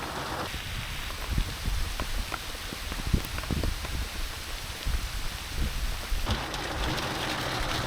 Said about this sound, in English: It's like a tropical storm out there